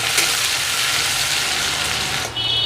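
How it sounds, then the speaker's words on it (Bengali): Chopped onions frying in hot oil for a Bengali pui saag raita, a steady loud sizzle that holds throughout with no talk. "এরপরে আমি এর মধ্যে পেঁয়াজ কুচি দিয়ে দেবো। পেঁয়াজ কুচিগুলোকে একটু ভেজে নেব।"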